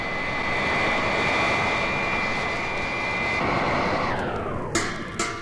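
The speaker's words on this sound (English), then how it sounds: "Robot plane slow to rendezvous with ship and hover" A robot plane's engine drones steadily and loudly as the craft slowly approaches and hovers near an alien spaceship in a Wonder Woman audio drama, with a couple of sharp bursts near the end.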